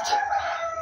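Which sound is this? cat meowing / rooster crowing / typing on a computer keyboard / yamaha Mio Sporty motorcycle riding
rooster crowing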